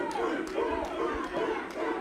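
An indie wrestling crowd reacts to a power slam with a rising roar of cheers and shouts that swells and falls in waves, loud and continuous throughout.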